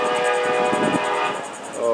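A Florida East Coast Railway freight train's horn sounds a sustained, multi-tone chord, loud and fairly close, over the rumble and clatter of rolling rail cars, with insects chirping in the background.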